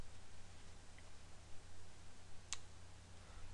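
A single sharp computer mouse click comes while C++ code is being written, faint and brief against a low steady hum, with no other sounds around it.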